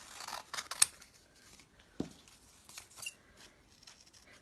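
Scissors snip through folded paper circles in a series of crisp, close cuts with short pauses between, set against a quiet room.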